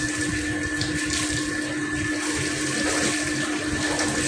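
Water splashes continuously over a calf being bathed on a dairy farm, a loud, steady rushing wash like running hose water with no pauses throughout.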